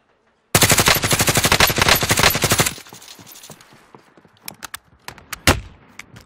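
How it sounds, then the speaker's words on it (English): Rapid automatic gunfire in a video game rattles loudly for about two seconds, followed by scattered single shots and softer distant pops, with no talk. "Incoming fire."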